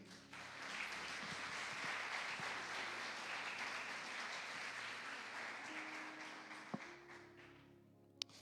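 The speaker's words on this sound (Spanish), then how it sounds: "Denle un aplauso al Señor." A church congregation applauds during a sermon, a broad sustained wash of many hands clapping at moderate volume with a few sharp claps near the end.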